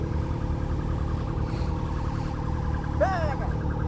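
A rescue vehicle siren wails briefly at mid-distance over steady road noise and the noise of Z1000 and XJ6 motorcycles, rising and sweeping near the end.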